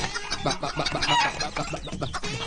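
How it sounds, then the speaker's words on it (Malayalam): Several chickens clucking close by in a busy, overlapping chorus that continues without a break. "അല്ല ലാലി, ആവശ്യത്തിന് മുട്ട പുറത്തുനിന്ന് ഇട്ടുണ്ടല്ലോ, പിന്നെ നീ കോഴികൾ വളർത്തുന്നത്?"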